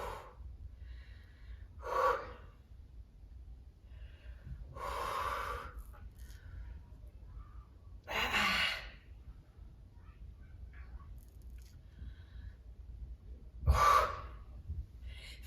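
Heavy breathing during a dumbbell workout comes as four or five separate, close, sharp gasping breaths spaced a few seconds apart over a quiet background.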